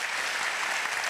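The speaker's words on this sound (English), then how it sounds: "a special thank and round of applause for Concordia" A dense, even round of applause fills a concert hall audience, the many hands blending into a steady wash of clapping with no pauses across the brief moment.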